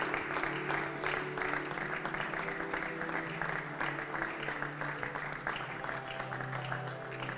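A church congregation applauds Jesus with steady, continuous clapping from many hands at a worship service, sustained and even for several seconds, moderately close.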